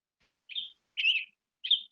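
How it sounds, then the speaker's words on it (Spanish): A mobile phone ringtone of chirping birds sounds at a psychology conference, with three short bright tweets spaced about half a second apart against silence. "Ay, empezó a sonar el teléfono como loco."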